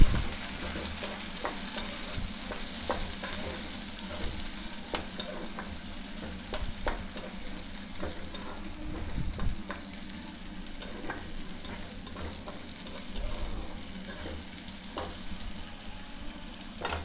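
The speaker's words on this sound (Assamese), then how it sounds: "কাটি থোৱা পিয়াজখিনি মই ভালদৰে ভাজি লম" Chopped onions fry in hot oil for a rohu fish curry with curd, a steady close sizzle dotted with frequent spatula clicks and scrapes against the pan throughout, with no talking.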